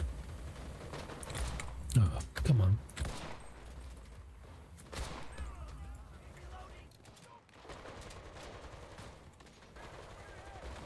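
Bursts of gunfire in the WW2 shooter game Enlisted: a couple of loud close shots early, then scattered fainter distant firing, with a player talking over parts of it.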